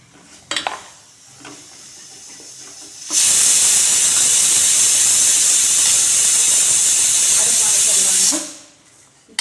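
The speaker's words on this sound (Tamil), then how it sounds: "விசில் வந்துருச்சு பருப்பு பயிறு அதையும் அடைச்சிடலாங்க அடுப்பு மூணு விசில் வந்துருச்சுங்க" A pressure cooker on a kitchen stove, cooking lentils and field beans for a mochai bean gravy, lets out a long, loud, steady steam whistle that hisses for about five seconds and then cuts off, with faint kitchen sounds before and after.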